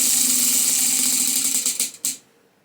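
A prize wheel spun for a reading prompt game whirs with a rapid ticking rattle that slows and thins out, then a few final clicks as it comes to rest, close and alone.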